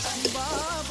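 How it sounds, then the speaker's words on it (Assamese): Duck meat with onions, salt and turmeric is stirred and fried in a pan, giving a brief close sizzle with a couple of spoon scrapes and a faint tonal sound in the background. "অলপ সময় লৰাই ধুনীয়াকৈ ভাজিম"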